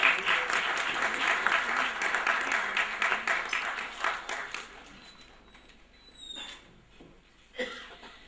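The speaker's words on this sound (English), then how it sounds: "Warm round of applause." Audience applause at an award function in New Delhi, a dense burst of clapping for about five seconds that thins out and fades, followed by a few scattered claps and faint background sounds.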